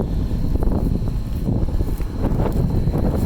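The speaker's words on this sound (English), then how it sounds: "It's quite windy out here today." Strong wind blowing outdoors beside a Fendt Ideal 9 combine in a lentil field, a loud continuous roar buffeting the microphone throughout with steady gusty rumble.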